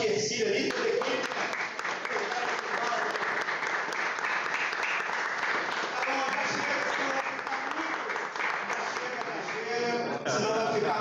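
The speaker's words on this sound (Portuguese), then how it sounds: "Uma salva de palmas" A church retreat congregation gives a sustained round of applause to thank the kitchen team, a dense, even wash of clapping lasting over ten seconds with voices mixed in.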